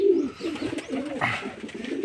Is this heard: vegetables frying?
no